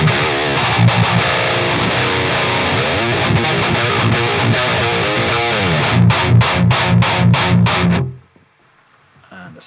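Heavily distorted metal electric guitar through the third channel of the STL Tonehub PVY Vector amp model with an Invective drive pedal in front, playing loud chugging riffs and staccato stops before cutting to near silence.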